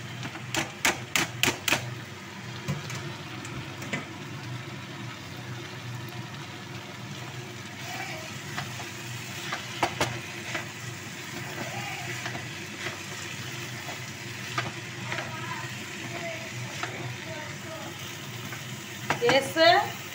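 Banana flower frying in spice paste while being stirred, with irregular scraping and clattering strokes of a utensil over a steady soft sizzle, a burst of quick taps near the start and louder stirring at the end.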